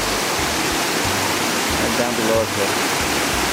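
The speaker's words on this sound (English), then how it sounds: "You can hear the noise of the water." Water rushes steadily down a mountain stream below a fern-lined slope, a continuous broadband roar close by, with a voice speaking briefly over it.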